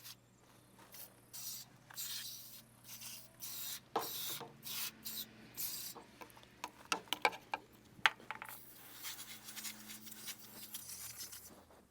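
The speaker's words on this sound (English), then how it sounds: "All right, get it all sprayed on there." Cleaner sprayed onto the coils of a Mitsubishi ductless outdoor AC unit, a series of short hissing bursts in quick irregular succession, close and fairly loud over a low steady hum.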